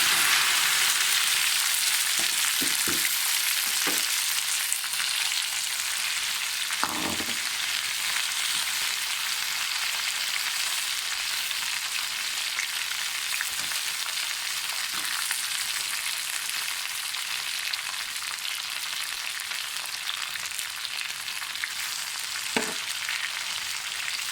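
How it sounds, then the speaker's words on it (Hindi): Okra frying in about one and a half cups of oil in a pan, a dense, loud, continuous crackling sizzle with a few faint clinks, no talking. "भिंडियों को आप 10 मिनट फ्राई करें"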